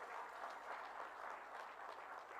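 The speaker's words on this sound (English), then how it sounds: "I would request you to kindly give a round of applause to our partners today, IHC." A round of applause rises from the audience for partners IHC at an FDI memorandum signing event in Odisha, a quiet, steady patter of clapping sounding somewhat distant throughout.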